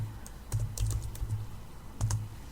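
Close, quiet typing on a computer keyboard: irregular bursts of clicking keys with brief pauses between them, heard alone with no voices.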